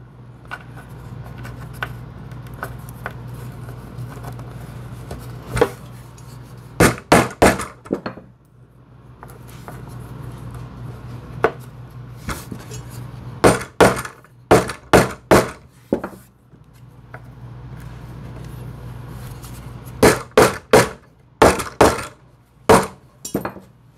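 A small hammer pounds T-nuts into the wing of a P-51 pedal plane, with sharp metallic taps in quick clusters separated by quiet pauses, close and loud.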